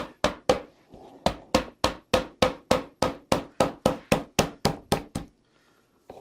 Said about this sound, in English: So I've got my little hammer and we'll just gently tap it all the way down.